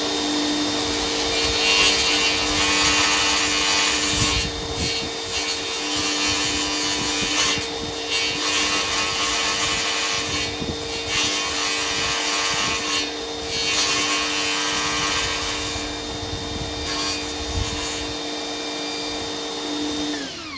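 A notch is cut into the wooden side of a Pac-Man arcade cabinet for a power cord, a continuous loud grinding, rasping cut running close and unbroken for about twenty seconds with faint pulsing strokes.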